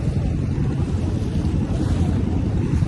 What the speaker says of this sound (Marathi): बोट राईड चालू आहे मस्तपैकी